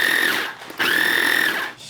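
A food processor pulsing butter into a cookie crumb crust makes two short bursts of high whirring motor whine, each ramping up and cutting off, close and fairly loud with no talking.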